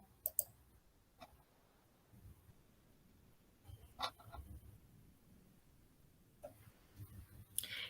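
A computer mouse clicks a few times at irregular intervals. The clicks are sharp, isolated and quiet, over a low, steady background hiss, with no speech.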